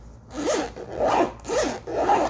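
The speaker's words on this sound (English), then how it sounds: "Nice zipper." Zipper on a Bose QC25 headphone carrying pouch, pulled back and forth in four smooth rasping strokes, close up and clear with no talking.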